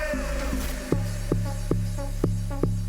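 Amapiano timekeeper percussion plays with the drums muted. After a brief busy passage, short crisp hits arrive in a steady rhythm about every 0.4 seconds over a sustained low bass tone, at moderate volume.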